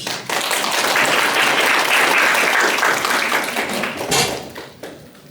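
At a Korean game-industry talk on Finland's game jam culture, an audience claps to welcome presenter Park Sol. The loud, close applause starts abruptly, holds steady, then thins out into a few scattered claps.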